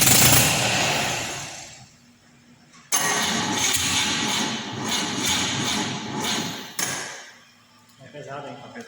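A rebuilt 261 six-cylinder engine cranks and fires for its first start, catching after a pause and running roughly and loudly nearby, then faltering toward the end, with people talking over it.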